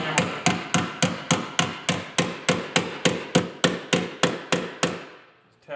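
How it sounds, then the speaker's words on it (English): A small hammer taps a rivet nut into place steadily about fifteen times in an even rhythm, each strike sharp and metallic with a short ring, close and clear. "I just use a small hammer."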